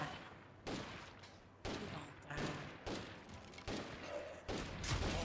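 Gunfire in State of Decay 2 with repeated sharp shots cracking out about every second in steady volleys against a mid-level din of game noise, with a faint voice underneath.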